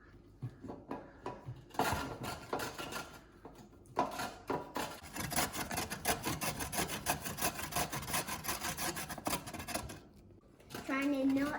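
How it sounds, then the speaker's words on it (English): Two carrots are grated by hand for burgers, producing rapid rhythmic rasping strokes that run through most of the clip. Faint voices can be heard at the start and near the end. "You might want to have 2 carrots and grate them."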